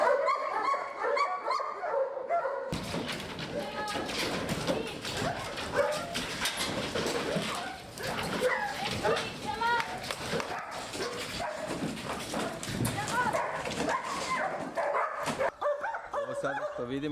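Dogs bark, yip and whimper in breeding kennel runs, a dense, loud chorus of overlapping voices from several animals, close by and continuous, with someone speaking over them.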